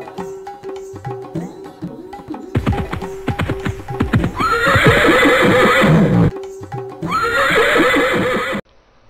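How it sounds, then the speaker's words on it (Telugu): An animated horse in a children's story neighs loudly in several long whinnies, mixed with quick, rhythmic galloping hoofbeats that fill the scene up close. "గుర్రం చాలా వేగంగా ముందుకు దూసుకొని పోయింది"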